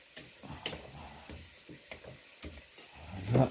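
Chicken browning in rapeseed oil in a pan, heard as soft sizzling under a series of irregular taps and scrapes, ending with a louder clunk; no one speaks.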